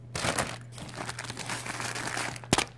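A plastic bag of fresh spinach from a Blue Apron meal kit box crinkles loudly and close up, with continuous crumpling and a sharp rustle near the end.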